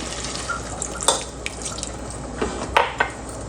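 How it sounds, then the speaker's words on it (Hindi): Half a cup of water goes into a cooking pot of keema lobia, a close trickle and splash with a few sharper drips and clinks, no voices. "हाफ कप पानी इसमें डाल देंगे।"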